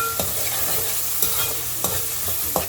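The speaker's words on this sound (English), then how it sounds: "Mix it nicely and fry it until onions are nice and browning" Chopped onion fries in a pan while a spoon stirs it steadily, giving a close, constant sizzle with several sharp scraping clicks, for a carrot fried rice dish.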